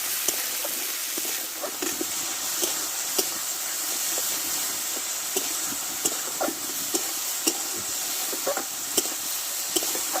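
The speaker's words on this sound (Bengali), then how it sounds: "দেখো মশলাটা ভালোভাবে কষে নিয়েছি" Spice paste with salt and turmeric sautés in a pan, giving a constant hissing sizzle broken by frequent small clicks and scrapes of stirring, close and steady.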